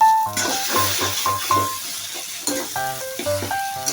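Coriander leaves are stirred into an eggplant mash (begun bharta) frying in oil, giving a steady close sizzle broken by repeated scraping stirs and the light clink of a spoon against the pan.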